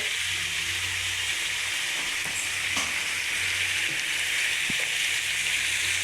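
Tomatoes with a little turmeric sauté in a pan over softened onions, giving a steady, loud, close sizzle throughout, with a few faint clicks of stirring and no talk.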